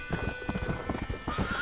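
A horse in the video game Red Dead Redemption trots with quick, rhythmic clip-clop hoofbeats and lets out a short whinny. The sound is close and fairly quiet, with no speech over it.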